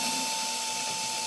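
A power drill runs steadily, boring pilot holes for alignment dowels in model railroad benchwork, a continuous high whine with a fixed tone held alone for about a second.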